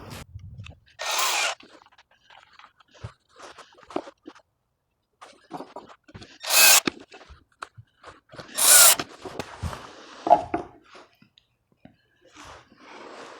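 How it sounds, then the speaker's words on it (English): A power drill bores countersunk holes and drives screws into plywood for a garage French cleat holder, several short whirring bursts separated by quiet pauses, with faint shuffling and handling noises between them. "drill holes in the back and in the top with countersink and put some additional screws in for strength"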